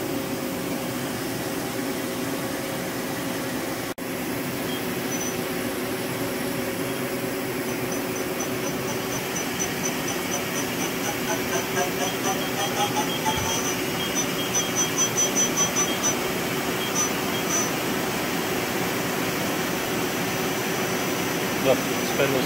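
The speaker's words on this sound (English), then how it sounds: "Spindle sounds really good." The spindle of a Mori Seiki NT-5400 CNC lathe runs steadily, giving a continuous loud mechanical hum and whine with faint high tonal whirring, unbroken throughout.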